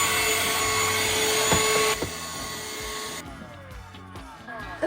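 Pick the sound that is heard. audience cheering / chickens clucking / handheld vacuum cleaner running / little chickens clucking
handheld vacuum cleaner running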